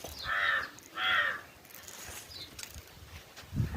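Two loud, harsh crow caws in quick succession, then quieter outdoor background with a faint thump near the end.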